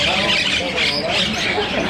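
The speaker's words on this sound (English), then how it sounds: "They sell birds." Birds for sale at a market in Texas squawk in a dense, bright, continuous chatter up close, with voices mixed into the din.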